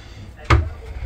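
Tall closet door in a standard balcony cabin on a cruise ship opening with a single short knock-like thud, close and fairly loud amid low room tone.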